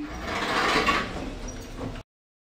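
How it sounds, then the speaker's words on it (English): Lift doors in a hydraulic elevator slide open with a steady mechanical whir and rumble lasting about two seconds, then stop abruptly. "Doors opening"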